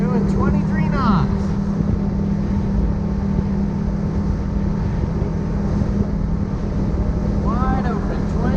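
Motorboat running wide open at about 23 knots, a loud steady engine drone with wind buffeting and hull noise throughout, and a voice briefly speaking over it.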